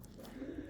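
Uzbek pigeons cooing, a brief soft low coo close by.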